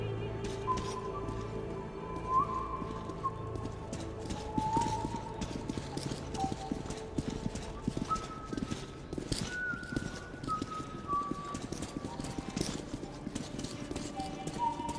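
Horses in the Metro 2033 Redux video game clip-clop steadily at a trot with occasional whinnies, set against a busy game soundscape with faint voices and bird-like chirps.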